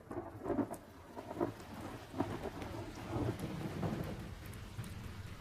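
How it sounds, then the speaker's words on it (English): Steady rain pours down through a thunderstorm, with low rumbles rolling under the continuous hiss of drops hitting surfaces. The sound is even and enveloping, with no voices. "The rain fell. Hour after hour it rained."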